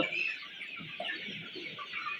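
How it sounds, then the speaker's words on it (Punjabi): Desi native chickens and a rooster clucking on a farm, a steady close chorus of overlapping clucks and chatter with no talk. "ਦੇਸੀ ਮੁਰਗਾ"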